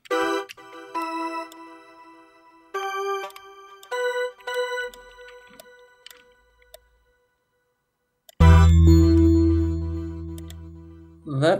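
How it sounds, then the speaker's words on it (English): Bright programmed bell tones in an FL Studio song play in short repeated clusters with gaps of silence, then a louder full chord with deep bass swells in near the end. "let me turn off the bells for a second."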